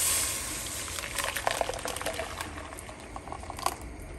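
Blended sauce pouring into a pot of hot oil and sizzling, a steady bubbling hiss with brief liquid splashes, close and continuous, no talking.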